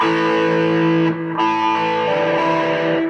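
Electric guitar with heavy distortion playing a passage, sustained thick chords ringing loudly with a short break before the notes shift.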